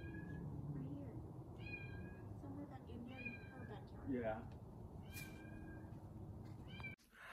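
A small kitten meows repeatedly in short, high, thin cries spread across the stretch, faint and somewhat distant under low background noise, with a brief knock near the end.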